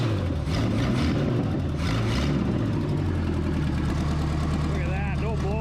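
A 1978 Oldsmobile 403 V8 runs steadily close by with a deep idle rumble and some rises in revs, while people talk over the engine throughout.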